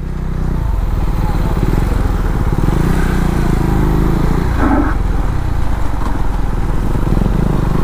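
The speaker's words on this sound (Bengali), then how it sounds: "এই বাইকটা দেখলেই ভাই চালাতে ইচ্ছা করে ভাই" Supermoto motorcycle ridden off-road with ABS switched off, its engine running loud and close with a steady throbbing pulse and a brief rise in revs midway.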